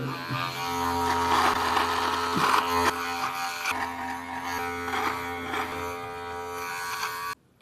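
A Trimfinity 1.0 beard trimmer fitted with a 3 mm comb runs steadily with a close, loud electric buzz, its tone wavering slightly as it cuts, then cuts off abruptly.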